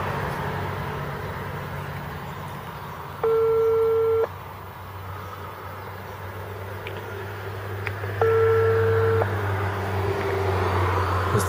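Telephone ringing tone on a call to a car dealer about a 2007 Seat Leon from France, two long electronic tone bursts about five seconds apart over a steady low hum, going unanswered.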